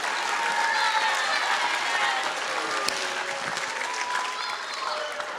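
Sustained applause from a school audience at Korah Collegiate after an Indigenous hoop dance routine, thick and lively throughout, with faint voices and cheers mixed into the clapping.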